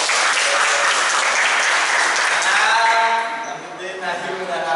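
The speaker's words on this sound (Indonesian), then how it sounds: "Tepuk tangan boleh?" Classroom applause from students during a teaching practice session, a dense wash of clapping that holds for about three seconds, then softens as voices talk over it.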